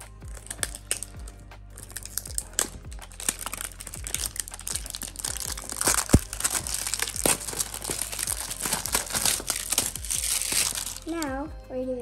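Plastic packaging crinkles and rustles in sharp, irregular bursts close up as a MeeMeow plush is unwrapped, with a voice talking over the handling noise.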